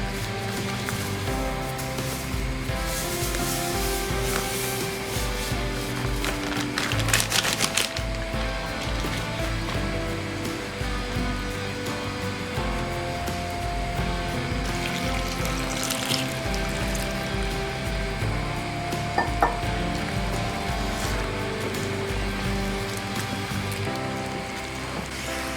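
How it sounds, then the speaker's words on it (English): Hot water pours into cornmeal in a cooking pot while it is stirred for Jamaican turn cornmeal, a continuous close splashing, scraping slosh with a few sharper knocks against the pot and no talking. "I pour the hot water meantime and start mix around it."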